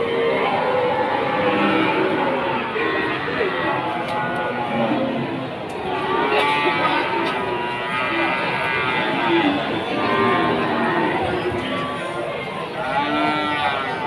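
Cows with calves at the Wirosari cattle market moo repeatedly over a murmuring crowd, several loud, drawn-out lows near and far while someone talks over the livestock noise.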